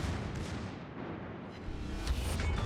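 A heavy explosion sounds as a ship detonates in the naval battle game World of Warships, with a deep rumbling boom and booming gunfire layered over a dense, loud battle roar throughout.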